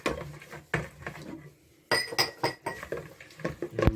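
Salt and olive oil are stirred together in a bowl for croissant dough, giving close clinks and scrapes of a utensil against the bowl in uneven bursts.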